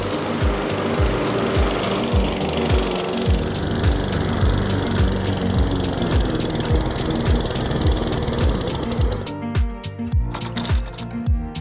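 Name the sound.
Toro 21-inch self-propelled lawn mower mowing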